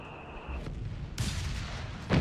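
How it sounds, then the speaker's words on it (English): Artillery and mortar fire rumble through a Company of Heroes 3 battle, with a mid-clip burst and a sharp closing boom, dull distant thuds underneath. "a lot of artillery here, just so much mortar fire"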